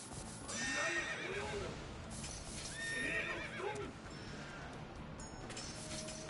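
Horse neighs and whinnies from a video game mount, with clip-clop hooves, come twice in close succession over a busy backdrop of game effects.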